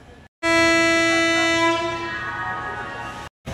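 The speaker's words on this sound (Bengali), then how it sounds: "একদম সঠিক সময়ে আমাদের ট্রেনের হুইসেল পড়লো" The whistle of the Howrah–Adra Chakradharpur Express departing Howrah, one long loud steady blast lasting nearly three seconds, close by and alone, fading slightly toward the end.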